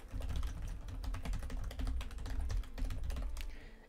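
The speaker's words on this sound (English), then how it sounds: "if you're really close to a keyboard and you're typing" A computer keyboard being typed on very close to a budget microphone, with a steady run of rapid, sharp key clicks over a low background hum.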